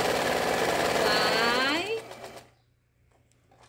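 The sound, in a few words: sewing machine stitching fabric bird along the drawn line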